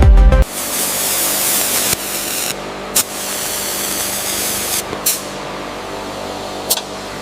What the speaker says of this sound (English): This laser allows us to remove the corrosion layer by layer without damaging the underlying metal structure